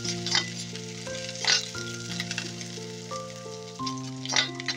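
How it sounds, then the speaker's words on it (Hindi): Garlic and cumin fry in hot oil with a steady bright sizzle, punctuated by a few louder crackling bursts, close and alone in a home kitchen. "सबसे पहले हमें लहसुन डालना है और लहसुन को ब्राउन करना है"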